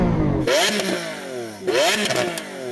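Lamborghini Aventador SV with its V12 engine revving hard twice, each blip rising sharply and then falling away as the engine settles, loud and close by.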